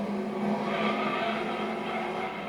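A race car in the video game Gran Turismo 2 runs at speed, a steady engine whine under a broad wash of tyre and road noise, continuous and fairly quiet, with no talk.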